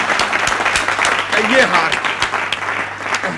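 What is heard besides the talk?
audience applause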